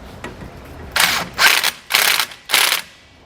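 Hand tools reinstall fasteners on a rear anti-sway bar of a 2015 Ford F-550, four quick, evenly spaced ratcheting bursts close by with brief pauses between them.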